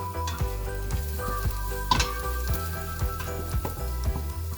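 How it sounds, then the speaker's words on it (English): Garlic fries in oil in a pan as a topping for Vietnamese sweet and sour shrimp soup, with a steady close sizzle, light stirring clicks and music in the background. "You gotta fry up the garlic, that's right."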